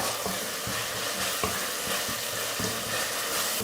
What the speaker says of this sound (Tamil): மசாலா எல்லாம் போட்டு நல்லா வதக்கியாச்சு.